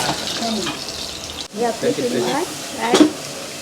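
Surmai (kingfish) frying in hot oil in a Konkan home kitchen hisses and crackles up close, partly masked by voices talking over it, with a brief louder burst near the end.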